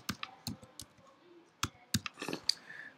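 Computer keyboard keys tapped in short irregular bursts while a city name goes into a website search box, crisp close clicks separated by brief pauses, quiet and without speech.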